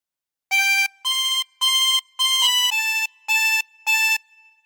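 A chromatic harmonica plays a phrase of the Star Spangled Banner as seven clear, separate notes in an even rhythm, close and fairly loud, with brief silences between them and nothing else heard.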